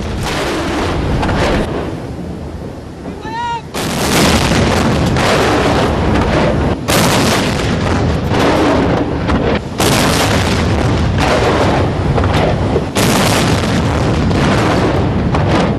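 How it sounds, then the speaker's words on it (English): Heavy artillery booms from a Sri Lanka Army Artillery Regiment 21-gun salute at a national ceremony, loud rolling blasts fired at intervals of a few seconds, each one echoing broadly into the next. "officers of the Artillery Regiment of the Sri Lanka Army performed 21 rounds of salute to honour the nation"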